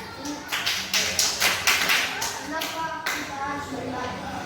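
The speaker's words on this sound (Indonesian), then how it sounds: "Iya, tepuk tangan." Children in a grade 6 classroom clapping their hands, a rhythmic run of sharp, fairly close claps in a steady beat, with faint voices and shuffling beneath.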